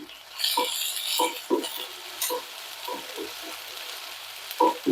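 Green chillies frying in a pan for kurma, a loud, close crackling sizzle with repeated sharp pops and spatters, stirred at irregular intervals over a steady hiss.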